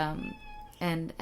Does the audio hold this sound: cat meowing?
yes